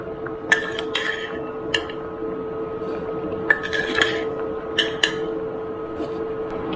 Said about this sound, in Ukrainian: Перемішуємо та варимо до потрібної консистенції з відкритою кришкою.